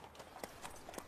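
A horse's hooves clip-clop faintly in a steady rhythm of about five distinct hoof strikes, heard alone without talk.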